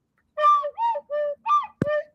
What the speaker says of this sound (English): I bought a penny whistle today, and this is the best I've learned so far.